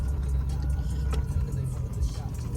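Squatted pickup truck engine running while driving and shifting gears, a steady low rumble and road noise that rises and dips slightly, with a person speaking over it.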